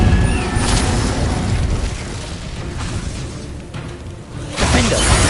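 Incendio fire spell cast in Hogwarts Legacy, a loud roaring whoosh of flame with booming bursts, sustained for several seconds and swelling again at the end.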